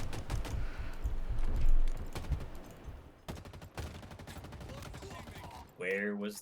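Gunfire in a Halo Infinite match arrives as rapid crackling bursts with a heavier thump among them, loud early and then thinning out, with brief talk near the end.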